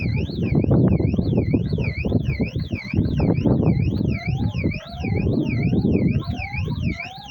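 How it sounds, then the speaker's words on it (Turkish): A warbling car alarm siren wails continuously in a repeating rise-and-fall pattern, loud and steady over a rumbling background. "alarmımız var."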